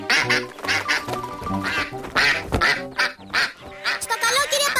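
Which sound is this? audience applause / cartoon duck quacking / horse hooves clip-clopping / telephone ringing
cartoon duck quacking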